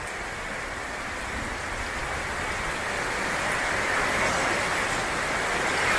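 Heavy rain pours steadily during Hurricane Ian in the Caribbean, a dense continuous hiss that swells slightly louder toward the end, with no voices.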